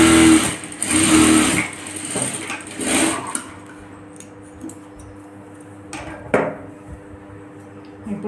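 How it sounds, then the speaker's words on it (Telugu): An electric sewing machine stitches the back piece of a blouse, sounding as several rapid, near bursts of whirring stitches separated by pauses, with faint handling clicks and cloth rustle between runs. "షేప్ పట్టి స్టిచ్ చేస్తున్నానండి."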